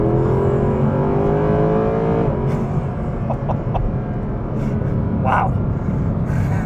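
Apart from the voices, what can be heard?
Mercedes SLS AMG Black Series naturally aspirated V8 accelerating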